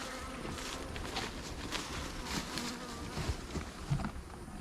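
Honey bees buzzing steadily at the hive of a weak first-year colony being fed syrup, a dense close hum with scattered louder passes of individual bees and no talk.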